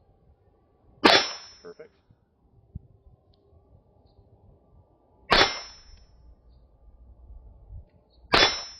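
A semi-automatic Glock pistol fitted with a compensator fires three loud, sharp single shots several seconds apart, each leaving a brief metallic ring at an outdoor range, with a short spoken word between shots.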